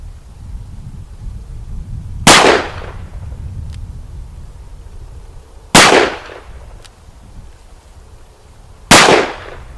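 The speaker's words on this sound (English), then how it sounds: "we'll do 3 shots in the metal torso at 12 yards" A Smith and Wesson 10-5 .38 Special revolver fires three loud, sharp shots at a metal torso target 12 yards away, each blast a few seconds apart with a short ringing decay.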